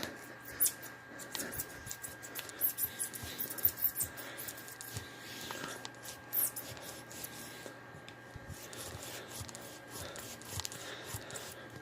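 A dull knife saws and scrapes through a tough rubber tire plug in short, uneven strokes, close by and fairly quiet, with small clicks and rustles in between.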